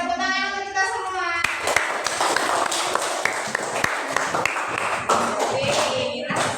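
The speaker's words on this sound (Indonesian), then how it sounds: "tepuk tangan untuk kita semua" A classroom group claps together, a dense, continuous patter of many hands. Children's voices sing or chant at the start, and a voice carries on faintly under the clapping.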